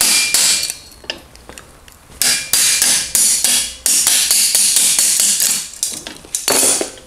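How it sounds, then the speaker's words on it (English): Sharp metallic hammer blows ring out in irregular bursts as a part of an ETC Towbuddy children's bike tow bar is hammered into place, some single and some quick runs of strikes, loud and close, with no talking. "Give that a little hammer in."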